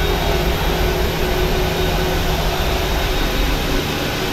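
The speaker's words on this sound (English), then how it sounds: "that's the second engine firing up" A PMDG Boeing 737 in Alaska Airlines livery at Anchorage, in a flight simulator, as its second jet engine spools up: a steady, loud, broadband roar with a faint tonal hum that holds unbroken throughout.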